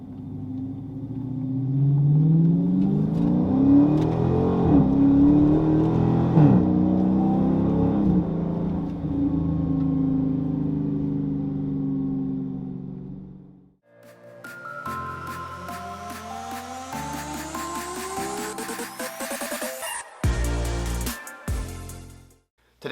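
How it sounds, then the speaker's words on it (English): A car engine and exhaust with Flowmaster Super 10 mid-mufflers rumble loudly, rising in pitch as it accelerates uphill, then revs again with sharp shifts and a throaty growl near the end. "the sound that I received after putting on the Super 10's as my mid-mufflers"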